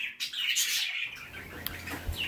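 Cockatiels and parakeets chirping in cages, a dense flurry of bright, overlapping tweets and squawks close by, steady throughout with no talking.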